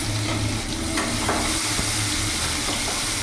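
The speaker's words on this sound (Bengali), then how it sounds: "ততক্ষণ ভাজবো পেঁয়াজটা যতক্ষণ না কাঁচা ভাবটা চলে যাচ্ছে।" Two large onions frying in a pan over tempered spices for a jackfruit and prawn curry, a dense continuous sizzle with occasional stirring knocks, close and loud, no talking.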